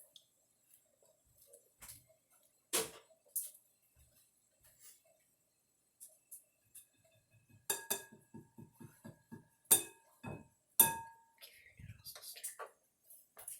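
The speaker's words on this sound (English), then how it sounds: "And you stir your noodles." A utensil stirs noodles in a cooking pot, giving sparse, quiet metallic clinks and taps that cluster into a quicker run of small knocks near the end, in an otherwise hushed kitchen.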